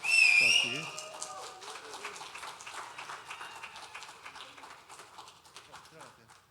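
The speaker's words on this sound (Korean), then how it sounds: "김민우 목사님을 향해서 다시 한번 뜨거운 박수로 격려하고" At a young adults' Sunday worship service, the congregation gives a moderate spatter of applause, with a brief whistle-like tone and voices talking over the clapping.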